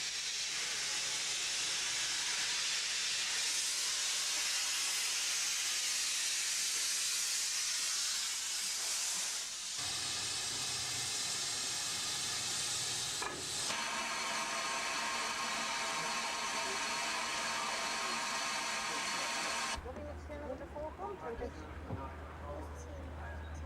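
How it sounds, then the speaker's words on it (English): A Manor class steam locomotive on a heritage railway in Somerset comes off shed, with loud sustained steam hiss and roaring exhaust shifting in bursts, heard close. "Having reached working pressure, the manor comes off shed to make up her train."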